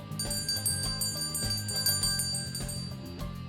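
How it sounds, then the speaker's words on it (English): A small bell rung during a relaxed livestream chat session, sounding as a series of bright, ringing metallic strikes with long sustained overtones that overlap and linger, fairly close and clear with no talking. "I will also ring the bell."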